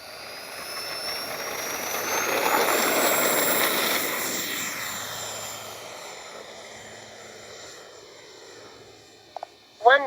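An FMS 64mm F/A-18 Hornet RC jet takes off, its ducted-fan whine swelling into a loud rushing roar that peaks, then fades into the distance. Near the end a voice briefly speaks.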